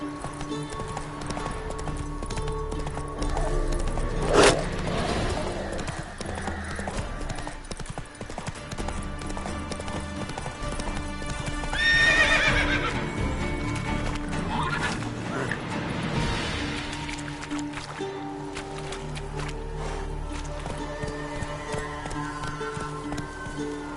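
Roach, a horse in The Witcher 3, gallops with rhythmic hoofbeats under background music, and a neigh rises midway, with a brief voice early on.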